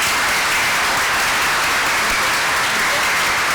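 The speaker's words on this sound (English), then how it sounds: "join me in giving our speakers a round of applause" An audience at a sustainability lecture on renewable energy gives the speakers a round of applause. Dense, loud, continuous clapping runs at an even level through the whole clip, with no talk over it.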